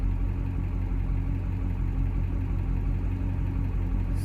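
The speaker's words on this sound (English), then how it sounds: "pretty much just gonna let the truck run" A pickup truck used for hotshot trucking left idling, its engine producing a constant, even mid-to-low drone with a faint whir, steady and close with no talking over it.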